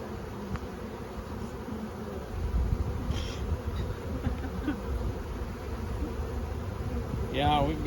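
Honeybees buzz loudly and continuously from an open Langstroth hive during a full inspection of hives kept near soybean fields, a dense drone with scattered small knocks and a faint whine near the end.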